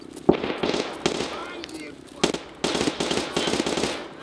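Tank cannon and gunfire in the Escape From Tarkov video game, with several sharp explosive bangs and bursts of rapid shots over roughly four seconds, while players talk excitedly over the action.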